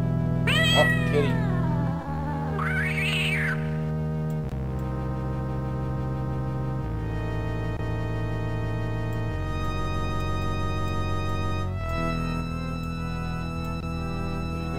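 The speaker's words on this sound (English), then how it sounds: "There you go, there's the cat." A cat in a video game meows twice, two rising and falling wavering cries near the start, over sustained in-game music chords that continue alone afterward.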